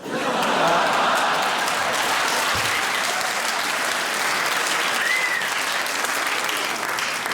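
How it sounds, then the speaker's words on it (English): Audience applause at a stand-up comedy show, a loud, steady wash of clapping from a large crowd that fills the whole stretch without letting up. "I think clapping a Parkinson's joke is in poor taste"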